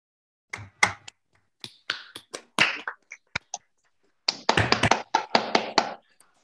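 A small audience at an arts and cloister conference applauds, starting with a few scattered, hesitant claps and swelling into a short, denser burst of clapping before it fades. No one speaks.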